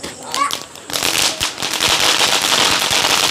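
Diwali firecrackers burst repeatedly in a dense, continuous crackle of loud pops that intensifies after the first second, with a voice talking at the start.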